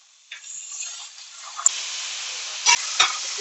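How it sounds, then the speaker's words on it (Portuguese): Potato pieces lowered into bubbling hot oil for fish and chips, a steady close sizzle and hiss with a few sharp splashes and clinks as pieces go in. "Eu gosto quando o óleo já tá borbulhando um pouco. E aí eu vou colocando as batatas."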